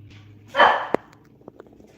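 A dog indoors gives one loud, sharp bark up close, followed by a few fainter yips and small clicks as the room goes quiet.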